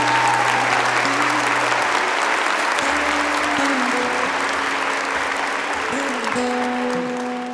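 A church congregation breaks into sustained, dense applause during a Catholic friar's sermon on Judas' betrayal, loud and even for several seconds with a sustained musical tone underneath.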